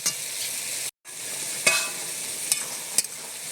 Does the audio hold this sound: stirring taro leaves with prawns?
yes